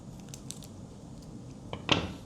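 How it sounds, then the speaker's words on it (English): Scissors snip through the plastic packaging of a Pokémon card pack, a short crisp cut near the end after quiet handling rustles, close and fairly faint. "Okay, we got our scissors. We're gonna cut it."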